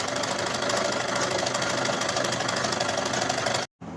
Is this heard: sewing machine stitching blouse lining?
yes